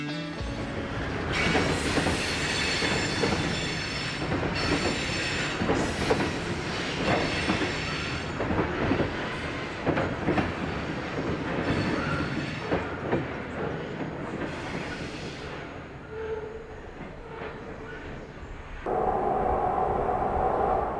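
A Portland & Western train on the Toledo District line rolls out of a tunnel near milepost 752: loud, sustained rumbling and clattering cars with rhythmic wheel clicks and high squealing flanges, easing slightly before a final burst.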